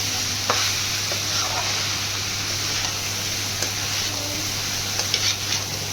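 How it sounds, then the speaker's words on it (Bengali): Boiled lentils being stir-fried over braised chicken in a pan for tadka, a steady close sizzle with scraping stirs and occasional spatula clicks, no talk. "সেদ্ধ করা ডালটা দিয়ে কিছুক্ষণ কষবো"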